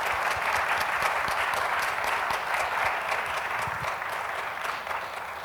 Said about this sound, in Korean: 오늘 함께해 주신 두 분께 큰 박수 부탁드립니다.